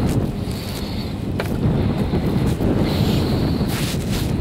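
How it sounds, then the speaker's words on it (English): Strong wind roars at the top of a ski chairlift at Breckenridge, buffeting the microphone in loud, continuous gusts with no voices. "at top of this I'm gonna block the wind"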